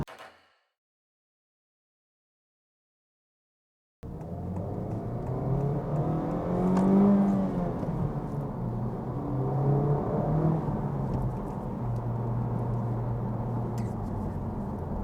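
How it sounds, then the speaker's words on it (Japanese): After a few seconds of silence, a Honda Civic Type R in sport mode drones loudly from inside the cabin while driving, with the engine swelling into a strong rev partway through before settling back to a steady hum. "これでスポーツとかプラス R モードにも入れたんですけど、そしたら今度は音がブーンってすごい音させながら走っていくんですよ。"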